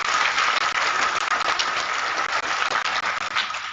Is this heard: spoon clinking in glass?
no